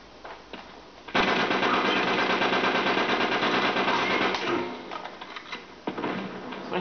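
Dense, rapid automatic gunfire rattles for several seconds in an Uncharted 3 free-for-all match at Desert Village, loud and close, tapering off before a few more shots at the end.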